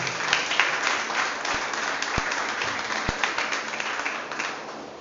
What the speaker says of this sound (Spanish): Den un fuerte aplauso a Dios en esta mañana